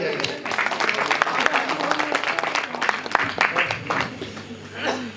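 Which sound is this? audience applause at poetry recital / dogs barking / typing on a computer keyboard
audience applause at poetry recital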